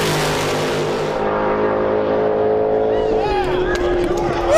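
A nitrous-fed Corvette drag racer roars loudly down the strip at Drag Week, its steady engine howl shifting pitch near the end of the pass, with crowd noise faintly underneath.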